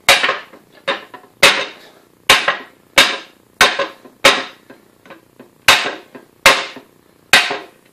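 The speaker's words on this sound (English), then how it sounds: "Striking these materials with a rubber mallet. Don't want to mark them." Eleven sharp, separate knocks from a rubber mallet striking the loosened joints of a wobbly folding card table chair being knocked apart for re-gluing, spaced unevenly about half a second to a second apart, close and loud with no talk.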